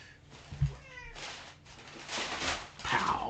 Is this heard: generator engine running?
no